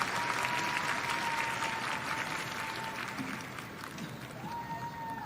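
A stadium crowd at the Kobe 2024 Para Athletics World Championships applauds a good first jump, a dense, sustained wash of clapping and cheering from a large audience, steady throughout and slowly easing.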